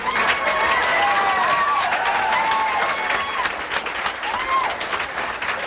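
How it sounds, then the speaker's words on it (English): TV studio audience applauding comedian Al Lubel on a 1987 comedy show, a dense, steady wash of clapping with some cheering and whistles, loud and sustained throughout. "Nice round of applause for Al Lubel"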